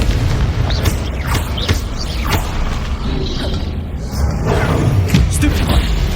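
Hogwarts Legacy spell combat with a Confringo blast: heavy booms, thuds and mechanical clattering in a loud, continuous fight mix, several impacts piling up over a few seconds.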